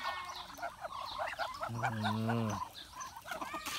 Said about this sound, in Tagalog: napaka-cute ng mga pato